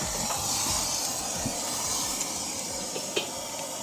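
A steady roaring hiss of a gas stove flame under a wok cooking bakmi noodles runs throughout, loud and close, with a few faint clinks on top.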